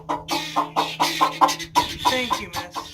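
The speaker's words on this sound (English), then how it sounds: "Release the chickens, you know." Chickens cluck in a steady rhythm of close, loud, repeated calls, roughly a dozen short bursts over a few seconds near their roost, with a rooster-like quality to some calls.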